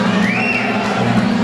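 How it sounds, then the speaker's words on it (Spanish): A crowd cheers at a live concert in Sydney, Australia, a loud, steady wash of shouting with a whistle rising briefly above it. "Fuerte y un caluroso aplauso"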